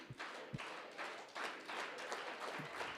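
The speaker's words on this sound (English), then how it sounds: "Let's do it with an organized hand clap, everybody." A conference audience claps in an organized, rhythmic pattern, with broad bursts of many hands repeating at a steady pace, fairly quiet and without speech.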